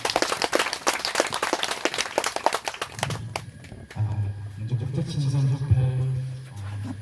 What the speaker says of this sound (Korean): 큰 박수로 우리 최영주 강사를 모시겠습니다.